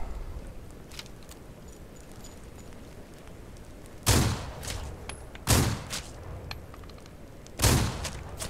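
Repeater rifle fire in Outlaws of the Old West: three loud, sharp shots spaced a second or two apart, each with a brief echoing tail, over a quiet outdoor ambience with faint crackles between.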